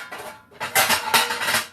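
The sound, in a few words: pans being handled while searching for one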